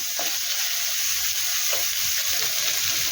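Capsicum, chopped onion and chicken frying in a pan give a steady loud sizzle, with a few soft stirring scrapes and no talking.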